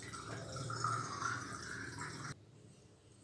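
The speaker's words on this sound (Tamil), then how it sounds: "இப்போ அந்த புளி கரைசல் இதில் ஊற்றிக்கிறோம்." Tamarind extract, soaked tamarind dissolved in water, is poured into a cooking pot for aval sundal, giving a soft steady liquid trickle that stops abruptly near the end; no talking.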